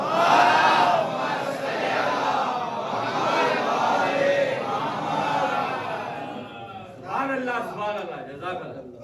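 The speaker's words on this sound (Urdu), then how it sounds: "ہمارا سلام مل کر ایک سلوات پڑھے بابا سے بلند" A mosque congregation loudly recites salawat together in unison, a dense, sustained crowd chorus that fades toward the end into a few separate voices.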